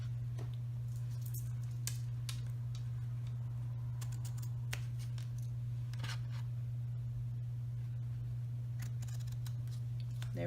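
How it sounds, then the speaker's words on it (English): Scissors snip the trimmed ends of a ribbon tied around a small folded paper gift bag, a few quick, crisp cuts close by over a steady low electrical hum, with no voices. "let me trim the ends here of my ribbon"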